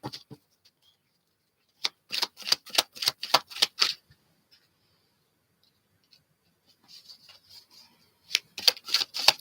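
Tarot cards are shuffled in two bursts of rapid crisp riffling clicks, separated by a long quiet pause with only faint scattered rustles.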